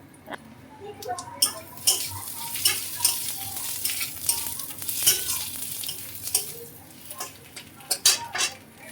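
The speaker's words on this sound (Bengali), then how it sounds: "পেঁয়াজটা একটু ভাজা ভাজা হয়ে গেছে দেখো" Chopped onions frying in a pan beside an omelette for egg curry, a steady close sizzle with repeated stirring scrapes and light utensil clinks, no talking.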